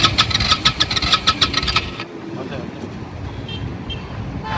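A motorcycle whose engine was submerged in floodwater is cranked over, giving a rapid series of chugging pulses, then settles into a rough, low rumbling run while people talk nearby.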